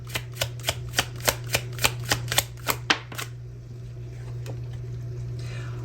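Tarot cards are shuffled close by in a run of about a dozen crisp, evenly spaced riffles and snaps, then the shuffling stops, leaving a steady low hum and a few faint taps.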